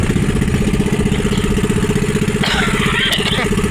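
A small fishing boat's engine running with a loosened cover and screw, a loud, close, steady chugging putter with a rattly edge, and a brief higher scraping clatter partway through.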